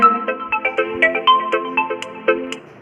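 A phone ringtone goes off in the middle of an online maths class, playing a loud, clear melodic tune of repeated tones in a steady rhythm, with no talking over it.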